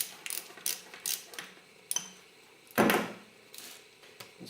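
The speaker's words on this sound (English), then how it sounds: "Got better access to get at it with a ratchet" A ratchet clicks in short bursts while removing oil cooler bracket bolts on a 1996 Yamaha YZF600, close and fairly quiet, with a louder scraping clunk partway through.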